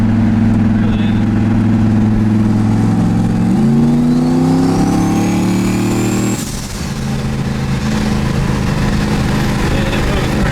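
A turbocharged LSX-swapped Chevrolet Colorado pickup with a 4-inch hood exit drives at a steady drone, then accelerates with a rising engine note and a turbo whistle before easing off, while people talk in the cab.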